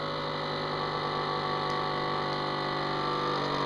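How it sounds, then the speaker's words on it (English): A vacuum sealer pumps air out of a bag of dehydrated frozen vegetables, giving a steady, close motor hum that holds level throughout with no talking. "I press vacuum and seal."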